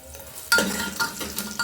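Chopped onions fry in a pan, with a soft steady sizzle and a couple of scraping stirs from a spatula over a short moment.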